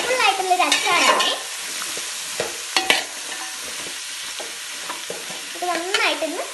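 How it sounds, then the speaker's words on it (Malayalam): Mixed vegetable pickle is stirred in a pan, with close, wet scraping and sizzling strokes that come in short bursts and pause in between, with no talking. "ഇനി നമുക്കതൊന്ന് മിക്സ് ചെയ്ത് കൊടുക്കാം."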